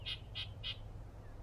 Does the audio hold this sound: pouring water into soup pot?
no